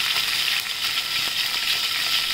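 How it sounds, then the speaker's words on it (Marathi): Garlic sizzles in hot tempering oil for a curd kadhi, a steady, close crackling hiss with faint stirring and no talk. "लसूण घेतलं ते टाकूया आणि आपण याची फोडणी तयार करतो"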